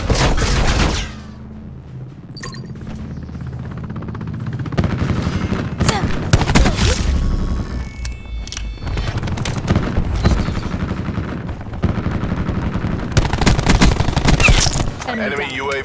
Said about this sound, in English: Reinforcer firing.